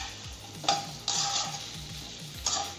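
Chicken frying in a pan with chili powder, Andhra style: a quiet sizzle under clinks and scrapes of a spoon against the pan, with a few sharper metallic knocks.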